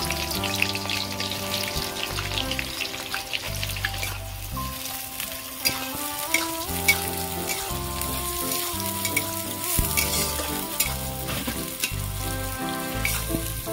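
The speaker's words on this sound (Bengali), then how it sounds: "তেল গরম হয়ে গেছে, প্রথমে আমি পেঁয়াজ বেরেস্তা করে নেব।" Sliced onions frying in hot oil in a heated pan for chicken kacchi biryani, a steady close sizzle running throughout, with a musical tone layered underneath.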